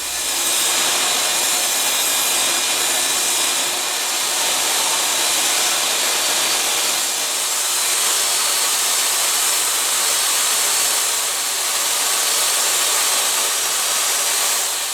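A saw rips rough-cut lumber into trim strips for a chicken coop egg hutch, giving a steady, loud, continuous whining cut that runs the full length without pause and with no talking.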